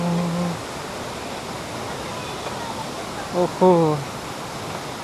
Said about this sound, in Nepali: आँखाले राम्रो झरनाको एउटा दृश्य पायो